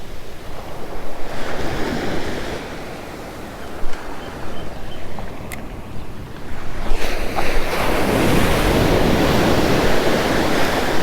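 Ocean surf rolls onto Kaanapali Beach on Maui as a steady loud wash of breaking waves, with wind buffeting the microphone and a surge building toward the end, no voices.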